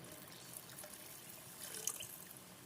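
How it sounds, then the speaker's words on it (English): Cups of water are poured into a cooking pot for rice with pigeon peas, a faint steady trickle and splash under low background noise, with no voices. "And then I'm going to go ahead and put in another 3 cups of water."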